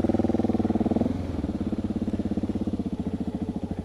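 A new dirt bike's engine idles close by with a steady, even chug, firmer for the first second before settling into a lighter rhythmic putter.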